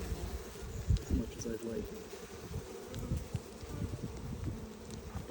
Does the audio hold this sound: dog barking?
no